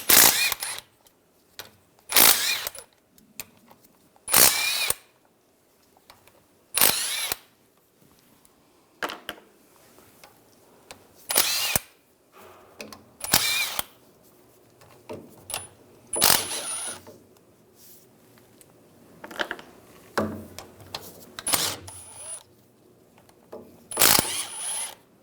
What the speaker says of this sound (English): I'm going to use a 13mm socket.